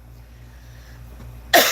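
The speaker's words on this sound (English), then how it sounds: "Cough that lung up." A single harsh cough bursts out near the end after a near-silent stretch, loud and close, with no talking around it.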